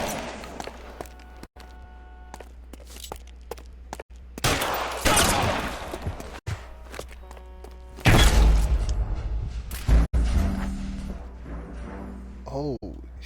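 Gunfire in the video game L.A. Noire during a rooftop chase on a fire escape: several sharp, loud shots and bursts scattered through the scene, mixed with game ambience and thuds.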